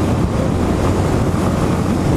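Cold wind roaring across a helmet microphone on a motorcycle ride, a loud continuous low buffeting rumble with no breaks.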